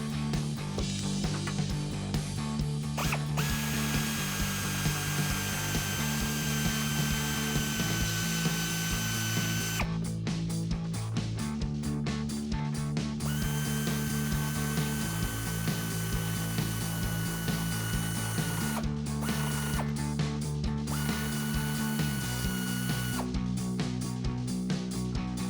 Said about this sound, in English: we're going to use that same 19mm to get those out